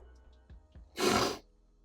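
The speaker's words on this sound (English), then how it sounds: "got the sniffles" A sharp sniffle through a runny nose, one brief loud intake after a couple of soft catches of breath, close up in an otherwise quiet room.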